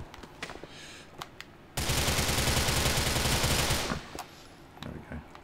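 Gunfire in Grand Theft Auto IV: a dense automatic burst lasting about two seconds stands out amid scattered, sharper single shots before and after.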